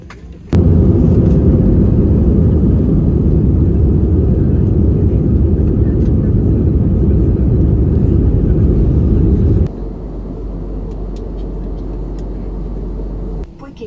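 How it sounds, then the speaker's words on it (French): Steady, loud broadband roar of a jet airliner's engines heard from inside the passenger cabin, constant for most of the stretch before dropping to a lower, quieter hum near the end. "Ok, on est dans l'avion"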